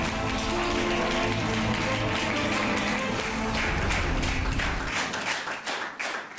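A studio audience at a Russian talk show bursts into dense, sustained applause, loud and continuous, with a few cheers before the clapping thins out at the end.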